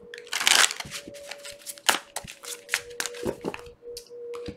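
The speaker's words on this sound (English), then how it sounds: "I'm going to give everything a quick shuffle anyways." Thick-cardstock tarot cards are shuffled by hand up close. A loud riffle opens, then softer irregular slaps, taps and sliding card sounds follow, quiet overall with no voices.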